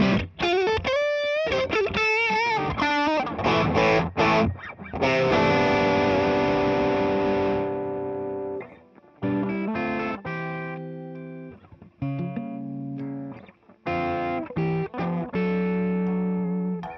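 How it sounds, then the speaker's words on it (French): An electric guitar played through overdrive pedals with the reverbs switched off gives gritty, distorted chords and single notes in bursts, ringing then cutting off between phrases, close and dry. "on va laisser les reverbs éteintes juste pour entendre tes drives tout seul"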